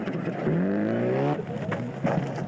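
Subaru R4 rally car engine on a gravel rally stage in Otago, New Zealand, revving hard with rising throttle blips and a falling pitch, close and loud with short bursts near the end.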